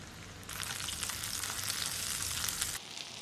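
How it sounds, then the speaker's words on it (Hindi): Butter chicken seekh kebabs fry in a pan as they are turned, giving a soft, even sizzle that swells in, holds steady for a couple of seconds, then drops away. No voices are heard. "तो अच्छी तरह से अलट पलट करते हुए हमने सब तरफ से सीख को पका लिया।"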